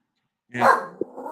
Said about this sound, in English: my dog decided he's going to bark